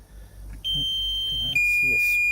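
A smoke detector giving its low-battery warning: a thin, high electronic tone switches on and holds steadily for nearly two seconds over a low background hum and faint room noise.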